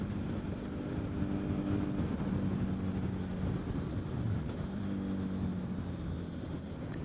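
A Honda CBR1000RR motorcycle engine drones steadily while riding, a continuous low rumble blended with wind rush, with no talking.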